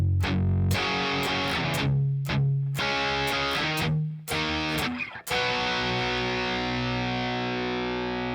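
Distorted electric guitar plays the intro of a song, loud and close, with chunky power-chord strums and short muted gaps before ringing out on a final sustained chord.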